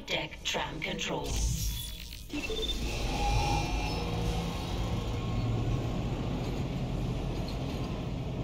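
Flight deck tram ride in Dead Space Remake: after a brief burst of mixed game sounds, a steady, fairly loud mechanical rumble with a low hum rolls on continuously, like a rail car moving along its track.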